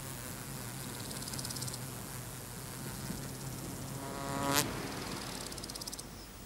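Insects buzzing around flowers, a continuous high droning hum with one fly or bee passing loudly close by near the end, set against a steady background of field noise.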